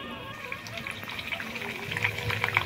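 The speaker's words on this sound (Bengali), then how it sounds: "এবার আমি এগুলো ভেজে নেব, গ্যাসটাকে একদম সিম করে দেব, দিয়ে এবার ভেজে নেব।" Papdi fries in hot oil on a gas flame turned down very low, giving a steady, fine sizzle dotted with small crackles and pops that grow busier toward the end.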